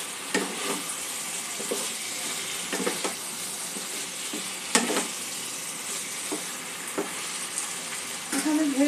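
Jackfruit being mixed and fried with spices in a pan for a Bengali jackfruit and prawn curry, an even sizzle broken by repeated scraping strokes of a spatula, with a sharper clatter near the end.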